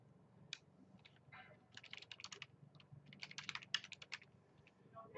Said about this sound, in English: type in my address